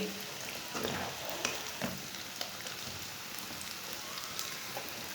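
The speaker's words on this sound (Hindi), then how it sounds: "5 मिनट तक मैंने अरबी को भून लिया।" Cubes of taro root (arbi) roasting in a pan give off a steady, dense sizzle with scattered crackles and pops, fairly quiet and close, with no talking.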